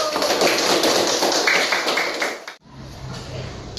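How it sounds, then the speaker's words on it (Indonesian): Children clap their hands together in a classroom activity, a dense burst of many overlapping claps that stops suddenly, followed by a quieter stretch of room noise. "Oke, tepuk tangan dulu."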